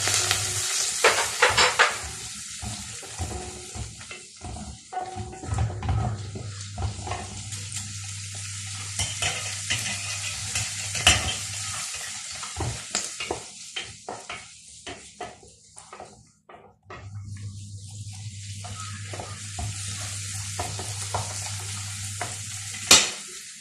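Chopped onions, cut fairly large, fry in a pan for chana masala, with a steady sizzle under repeated scraping stirs and occasional utensil clinks, close and fairly loud.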